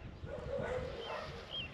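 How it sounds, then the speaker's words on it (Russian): Dogs barking outdoors at a glider flying low overhead after an electric-winch launch, the yelps and whimpering barks fairly faint and distant over steady open-air background. "Собаки лают на Беноса."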